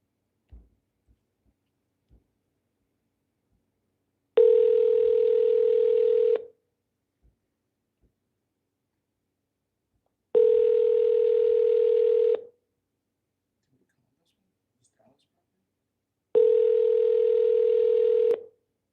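Telephone ringback tone on an outgoing call sounds three times, each a loud, steady two-second tone separated by about four seconds of near silence with faint clicks.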